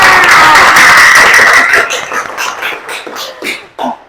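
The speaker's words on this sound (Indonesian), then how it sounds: "Tepuk tangan semuanya." A classroom of students claps on request, a full burst of applause for about two seconds that quickly thins into a few scattered claps and faint voices.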